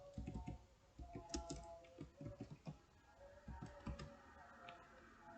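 Keys on a computer keyboard tapped in quick uneven bursts while HTML code is entered, close and fairly quiet, with brief pauses between runs of clicks.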